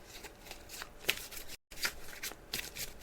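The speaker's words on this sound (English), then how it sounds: "I'm just shuffling the cards, as you can hear." Tarot cards being shuffled in repeated riffling bursts, close and fairly quiet, with a short silent break midway; no talking.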